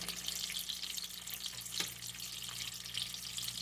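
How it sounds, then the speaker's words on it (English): Beef steaks frying in beef tallow, a continuous dense crackling sizzle with a faint low hum beneath and one brief louder spatter, no talking. "There's beef cooking."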